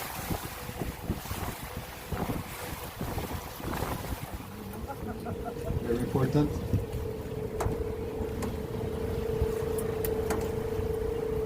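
Tour boat on the St. Lawrence River at Montreal's old port, with steady engine rumble, wind buffeting the microphone and water noise throughout, while a guide speaks over it.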